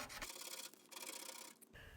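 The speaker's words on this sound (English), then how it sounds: "I just have to keep sanding like this for a while until I'm down to clean bare metal." Steady back-and-forth scratching of sandpaper rubbed by hand over a used metal body panel, sanding down to bare metal, in repeated strokes with brief pauses, quiet and close.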